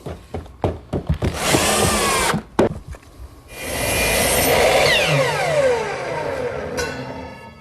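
A power drill drives screws into a plywood top on a chop saw station frame: a few short taps, then a two-second whirring burst, a pause, and a longer drill run that winds down, with no talking.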